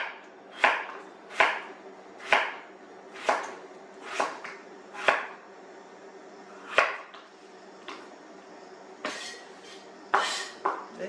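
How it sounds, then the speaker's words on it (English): A knife slices through a potato on a cutting board for a vegetable brunch, about a dozen sharp, close knocks in a fairly steady rhythm, each with a short crisp scrape, with no talking. "I slice the potato."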